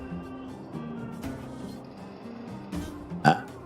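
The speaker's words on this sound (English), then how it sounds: "Sorry, I had a burp, like, stuck in my throat and wasn't coming out." A single short burp sounds near the end, after a quiet stretch of low background noise.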